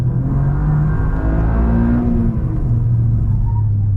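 Engine of a Toyota Yaris GR rally car pulling hard under throttle while the car slides and counter-steers, a loud, steady, close-up rumbling roar that holds for about four seconds with no talking.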